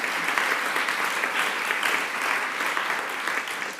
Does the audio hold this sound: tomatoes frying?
no